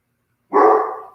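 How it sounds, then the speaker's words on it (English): A single short dog bark rings out close and clear in a quiet room after a moment of silence. "I apologize for my dog barking"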